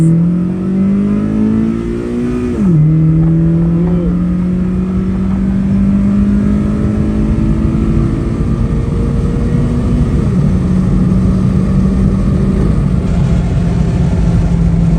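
A car fitted with a K24 engine and automatic paddle shifters revs hard and close, its engine note climbing, dipping sharply at a shift, then holding a strong sustained drone at a track night.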